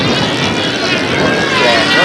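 A model airplane engine at a world championship flying event gives a loud, steady high-pitched buzz with a slight waver, heard close by and without a break, while people talk over it.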